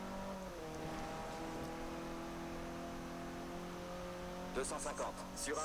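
A rally car in the Forza Horizon video game drifts with a steady engine drone whose pitch shifts as the car slides through a corner, while a voice talks over it.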